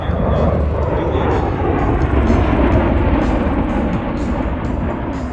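An MV-22 Osprey tiltrotor makes a high-speed pass at an air show at MCAS Yuma, giving a loud, sustained roaring rumble of engines and rotors that fills the whole stretch without letting up.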